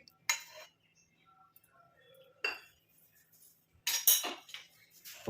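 Gooseberries and oil are stirred in a mixer jar, making a few clinks and scrapes of a utensil against the jar, with quiet gaps between bursts and no talking.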